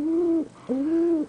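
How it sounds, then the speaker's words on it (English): A pet pigeon, a friendly male, coos up close in two soft, low, drawn-out calls separated by a short pause. "My new pigeon, Mau Mau."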